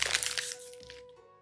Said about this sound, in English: let me try making a crunching noise with this bag.